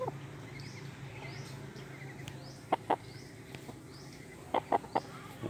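Chickens around a poultry pen give short, scattered clucks, two brief pairs of calls rising over steady rural background noise, moderately close. The birds include young chicks and a rare tongueless breed.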